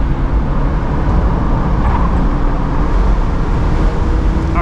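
A 2009 Mazda NC MX-5 Miata drives hard on a race track, heard from inside as a loud, constant low engine drone with road and wind rumble. There is no speech.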